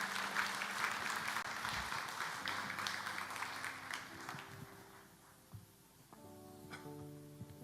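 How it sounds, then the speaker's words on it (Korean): A church congregation at a Sunday worship service claps warmly for several seconds, the applause thinning out as soft sustained keyboard tones rise underneath and carry on alone. "나오셔서 우리 한번 축복의 박수하겠습니다."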